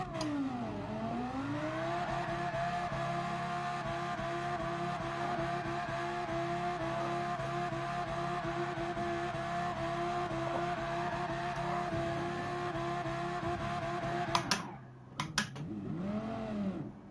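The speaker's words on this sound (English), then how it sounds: "Not the best of donut burnouts" A car spins donut burnouts on a dirt runoff area beside the track in Gran Turismo 7, its engine droning loud and steady with squealing tires throughout before a brief break and a rev near the end.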